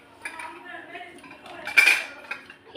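Cups and saucers being washed and stacked at a kitchen sink, with light clinks and clatters of crockery building to a louder rattle near the middle, close by and with no talk.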